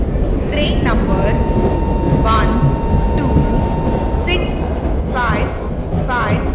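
Steady rumble of a passenger express train in an Indian train simulator game, a dense continuous rolling drone with short squealing tonal screeches and a held tone, under an announcer's voice.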